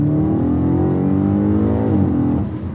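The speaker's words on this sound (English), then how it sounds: "Oh, God, those downshifts." An Audi RS4 (B8) engine growls loudly and close, its revs sweeping through a downshift with a rising then falling drone over about three seconds.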